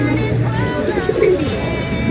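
Pigeons coo softly in a loft during rainy-weather training, a low repeated cooing set against steady background noise and light chirps.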